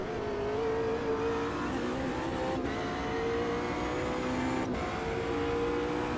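A V8 supercar engine in the Automobilista 2 racing game drones steadily and loudly at high revs throughout, with slight pitch shifts and two brief dips as if shifting gears, and no talk.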